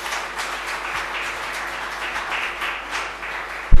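An audience at a gathering reflecting on the encyclical Lumen Fidei applauds, a steady dense patter of clapping that carries evenly for a few seconds and ends with one sharp, louder knock.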